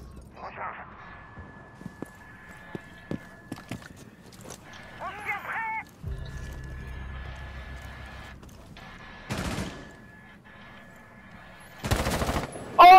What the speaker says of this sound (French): le Rook, headshot